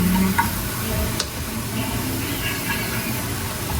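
Pork meat frying and being stirred in a pan: a continuous sizzle close by, broken by clinks and scrapes of stirring, with a sharp tap near the middle.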